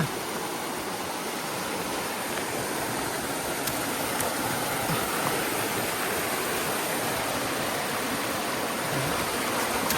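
A waterfall rushes in a constant, dense roar heard up close, unchanging and with no voices over it.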